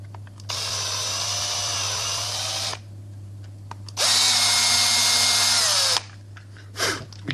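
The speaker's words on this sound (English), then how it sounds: "Then take your 440 and drill your holes." A power drill bores holes into an Xbox One controller shell in two long, loud whining bursts separated by a pause, with a low steady electrical hum underneath and a brief squeal at the end.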